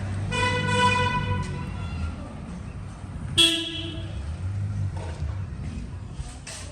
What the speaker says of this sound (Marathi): असं खालून गाड्या जातात